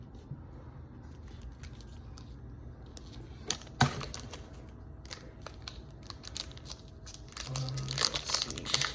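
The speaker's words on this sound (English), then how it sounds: "We're gonna open some more Yu-Gi-Oh cards." Yu-Gi-Oh booster pack wrappers crinkle and tear near the listener, faint scattered rustles with a sharper rip midway and busier crinkling toward the end.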